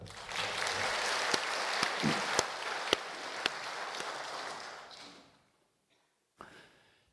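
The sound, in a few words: congregation applause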